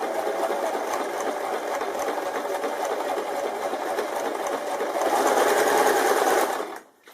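A sewing machine stitches fabric with a steady, fast mechanical whir that runs unbroken, grows a little louder near the end, then stops abruptly.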